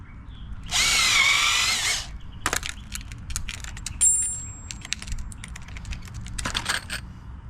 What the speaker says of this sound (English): I like to drill pilot holes because I don't want to split the lumber